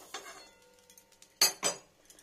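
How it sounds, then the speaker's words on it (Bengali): A kadai is set down on the stove with a couple of sharp metallic clanks, followed by lighter clinks and knocks in a quiet kitchen. "আর এখানে কড়াইটা বসিয়ে নেব"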